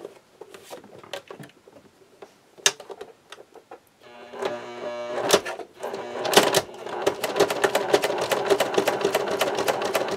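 A sewing machine stitches slowly through four thick layers of vinyl, opening with scattered clicks and taps before the motor starts at about four seconds. It then runs in a close, steady, labouring whirr with a few louder knocks along the way.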